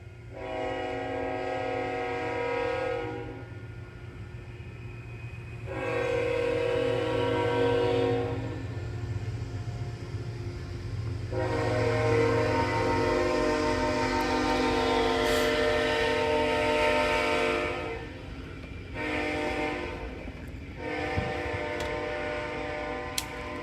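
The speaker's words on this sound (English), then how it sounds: "This train was going fairly slow. Took a while to go past." A slow train rolls past for a long stretch, with steady rumbling wheel noise and repeated long horn blasts that stop and start, loud and close, with no talking.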